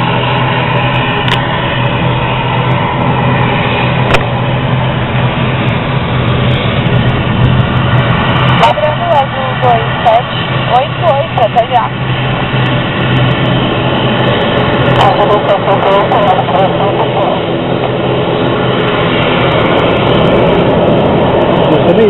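A steady, loud droning roar of airliner engines heard inside the cabin of an Azul Linhas Aéreas flight, with a few muffled sounds and brief voices faintly under the hum.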